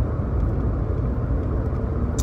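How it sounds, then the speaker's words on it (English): A car driving on a road at night, heard from inside as a loud steady low rumble of engine and tyres. "I'm driving home, and it's night"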